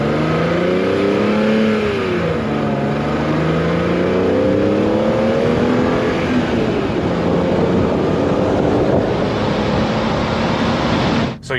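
A stock BMW E46 M3 is driven on the road, its engine droning steadily with rising and falling pitch as it goes through the gears, heard from outside over constant road and wind noise.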